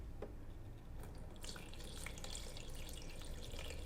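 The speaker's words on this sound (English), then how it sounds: "Open the lid and pour the water in." Filtered water pours into the reservoir of a BUNN BXB Velocity Brew 10-cup home coffee brewer, a soft continuous trickle and splash heard close up and alone.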